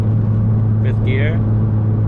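Steady low engine drone of a 10th-generation Honda Civic Si cruising in fifth gear at about 3,000 RPM on the highway, heard from inside the cabin as a constant hum with road rumble and a brief faint squeak.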